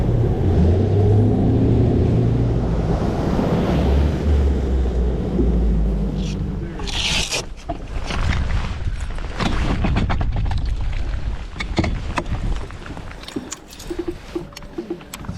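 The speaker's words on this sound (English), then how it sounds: "We got a little boat ride." Motorboat ride on Lake Murray, with a loud, steady engine and hull rumble throughout, broken by splashing and bumping bursts in the second half.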